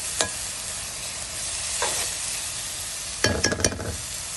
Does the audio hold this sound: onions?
yes